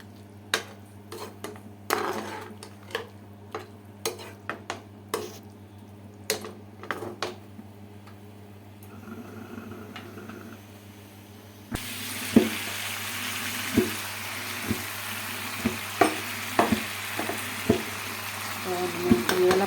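Chinese-style pasta is stirred and fried in a pan on a home stove. Repeated scraping clatters of the spoon sound over a low steady hum, then a louder sizzle takes over partway through, with sharp stirring clicks continuing.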